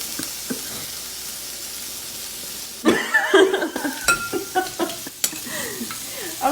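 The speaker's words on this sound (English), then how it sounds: "put them in a hot skillet, roll them on up" Meatballs frying in a hot skillet: a soft steady sizzle at first, then louder close-up bursts of sizzle and scraping as they are rolled around, with a few faint background noises.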